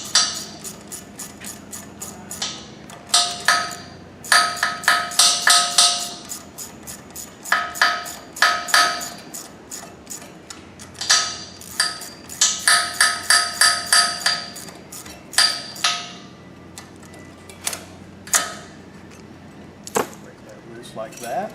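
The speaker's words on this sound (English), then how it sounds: "Have your ratchet ready." A hand ratchet tightening the cable clamp on a removable cable choker hose restraint: rapid bursts of sharp metallic clicking in repeated runs, loud and close, with short pauses between strokes.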